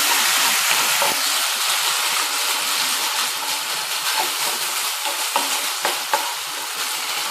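Chicken chilli being sautéed in a pan with vinegar added, giving a steady, close sizzle with repeated spatula stirs and scrapes throughout and no talking.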